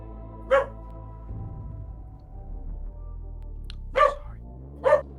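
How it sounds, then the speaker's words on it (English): Three short, sharp dog barks used as a sound effect, one early and two close together near the end, over a low rumbling background with a faint murmur between them. "He barks."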